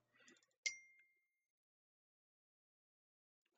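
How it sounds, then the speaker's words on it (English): A phone notification sounds as a single bright ding that rings out and fades within half a second, following a brief faint rustle, then near silence. "Phone's going crazy."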